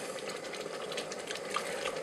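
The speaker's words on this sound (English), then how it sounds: "You can see it's boiling up, heating up very nicely." Food bubbling in a pressure cooker while Mongolian broccoli beef cooks, a steady close hiss and simmer lasting the whole moment, with a couple of small pops near the end and no talking.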